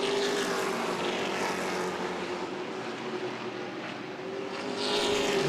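Stock race cars in an ARCA/CRA Super Series 125 at Berlin Raceway, a loud sustained engine roar of the pack passing close, swelling at the start and again at the end, with no talk.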